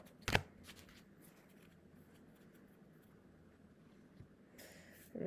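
Playing cards are shuffled close by, faint overall, with a sharp riffling burst near the start and another at the end, and quiet handling noise in between.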